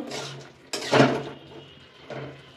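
A spoon scrapes and knocks inside a pot of boiling potatoes on a gas stove, a few short clattering strokes close by over a faint burner hum.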